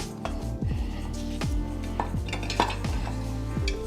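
A yellow sweet onion being cut with a blooming onion cutter, a series of knife taps and clicks against the guide and board over a steady low hum, close and without talk.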